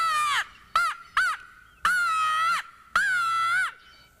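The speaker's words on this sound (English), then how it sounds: "I use this little Woods-Wise Crow Magnum, and it's so loud I'm going to turn my head to call on it" A Woods-Wise Crow Magnum crow call blown loud and close in five harsh caws: two long blasts after three short ones, squalling like an angry crow.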